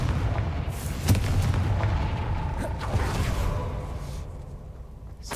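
The Confringo fire-blast spell in the Hogwarts Legacy video game sets off a booming explosion with a sharp burst. A long, rumbling roar follows and fades slowly.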